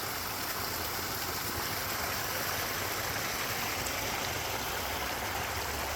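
Water pours down a garden pond waterfall in a constant, even rush and splash that stays close and unchanging, with no speech.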